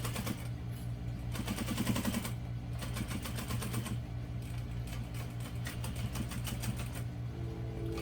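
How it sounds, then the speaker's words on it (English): Home sewing machine stitching a quarter-inch seam along a folded towel, a fast even rattle of needle strokes running in bursts with short pauses, close and fairly quiet. "I'm just going to sew this using a 1/4 inch seam allowance, just to make sure that it stays folded as you make your towel."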